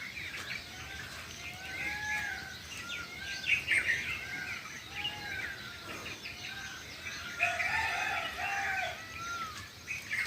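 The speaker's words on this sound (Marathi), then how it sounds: "मोरांचं ओरणं चालू आहे तिकडून मोराची केकावली" Peacocks call in a morning garden, several loud, drawn-out cries rising one after another from some distance away over a background of other birds.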